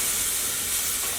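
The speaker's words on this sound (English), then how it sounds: "When the last little bits of liquid are sizzling there" Liquid sizzling in a pan with walnuts being coated, a steady close hiss of frying with no pauses or voices.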